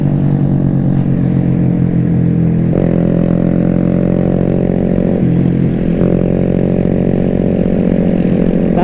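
A big bore Honda Grom motorcycle with a Hindle exhaust revs loudly up close, a raspy, buzzing engine note that climbs and holds in several throttle blips and steady high-rev stretches.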